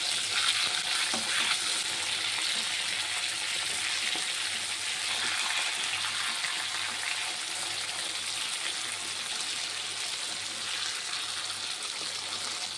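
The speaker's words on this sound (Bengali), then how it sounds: "একটু ভাজা হয়ে এসেছে, আমি একটু উল্টে দেব হালকা হাতে।" Bhetki fish frying in mustard oil in a pan gives a steady, close sizzle and crackle with faint scraping as the pieces are gently turned over, continuous throughout.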